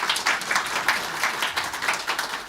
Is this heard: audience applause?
yes